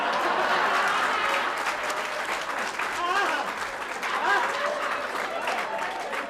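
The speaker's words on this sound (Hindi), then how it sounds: "इस बात पर आपने इतनी बढ़िया ताली बजाई" Audience clapping at a comedy poetry gathering, a steady round of applause lasting several seconds with voices audible through it.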